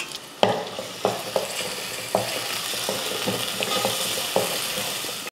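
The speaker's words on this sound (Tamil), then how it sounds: "வெங்காயம் பார்த்திங்கன்னா நல்லா வதங்கிருச்சு" Small onions and chopped garlic sauté in oil in a pan with a steady sizzle, broken by repeated sharp scraping taps as a spoon stirs, close and fairly loud with no talk.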